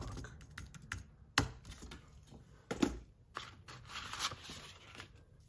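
Computer keyboard typing: a search entered in quick, irregular bursts of close, crisp key clicks separated by short pauses, with occasional louder taps.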